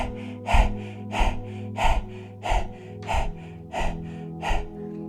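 Quick, forceful nasal exhalations of rapid Kundalini yoga breathing repeat about every half second in an even rhythm, close and clear with no talking.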